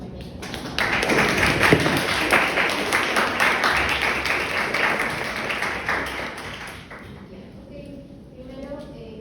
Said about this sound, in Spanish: Ya, aplausos a su compañera.